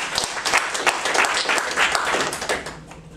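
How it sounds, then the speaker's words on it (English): A roomful of people gives a warm round of applause after a presentation, close, loud and lively, with crisp individual claps pattering unevenly across a full wash of hand clapping and no talk over it. "Please give her a warm round of applause."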